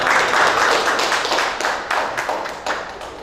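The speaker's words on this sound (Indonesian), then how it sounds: "Kita kasih tepuk tangan dulu." An audience at a political youth talk claps hands together, a loud, fairly close burst of many claps that settles into scattered, uneven clapping toward the end.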